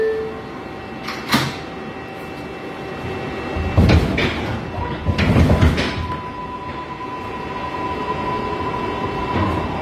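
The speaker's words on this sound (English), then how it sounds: "Stand clear of the closing doors, please." New York subway car interior on a Bronx-bound 6 local train at 68th Street, steady rumble and hum, a few sharp clunks and two louder thumping bursts as the train doors slide and bang shut.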